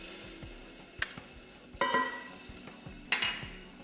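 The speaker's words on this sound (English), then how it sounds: "I will saute ginger and garlic first" Ginger and garlic sauté in a pan with a light, crackling sizzle, while a spoon scrapes and clinks against the pan in a few sharp strokes; no talking.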